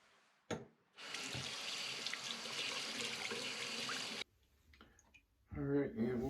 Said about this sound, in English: Gonna go ahead and rinse the razor here.